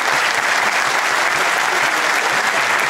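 Sustained applause from a crowd at a talk in Rancagua, a thick, even wash of many hands clapping, loud and close from start to finish.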